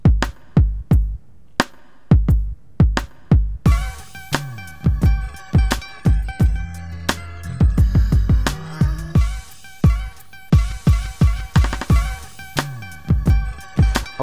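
Punchy electronic drum beat from FL Studio (Fruity Loops) with booming kicks and sharp snares in a steady rhythm, joined partway by layered synth tones, loud and close.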